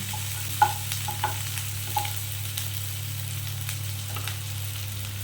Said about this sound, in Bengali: খুব সুন্দর করে আমাকে লাল করে একটু পেঁয়াজটা ভেজে নিতে হবে